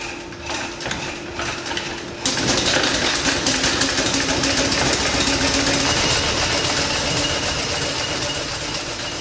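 A 1901 Wolseley 10hp tonneau engine runs steadily after starting, with a mechanical clatter and an even idling rhythm. It sounds loud and close, growing fuller about two seconds in, and no talk is heard.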